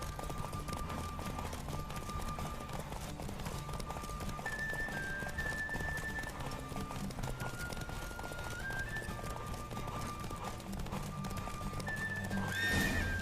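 Roach, a horse in The Witcher 3, gallops through a race in a quick, steady clip-clop of hooves, with an occasional whinny, under a continuous musical score.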